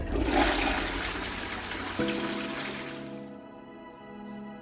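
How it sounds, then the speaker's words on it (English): A household toilet with a running fill valve flushes in a loud rushing whoosh that drains away, followed by the tank refilling in a steadier, quieter hiss and trickle. "flush the toilet"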